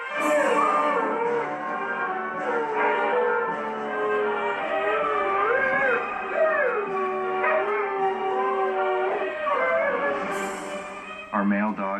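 Arctic wolf-dog hybrids howling together, long wavering overlapping howls that rise and fall in pitch, ending in a few sharp yips, close and loud throughout.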